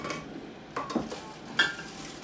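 Spoon scraping and clinking against a pot while milk is stirred into rice pudding, a few light metallic taps and scrapes close by, with no talking.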